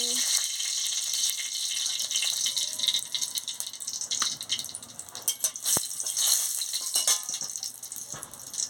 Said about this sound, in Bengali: তেল গরম হয়ে গেছে, আমি শুকনো লঙ্কাটা দিয়ে দিচ্ছি।